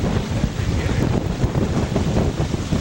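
Steady, loud wind buffeting the microphone, a constant rough low rumble with gusty fluctuations throughout and no voices.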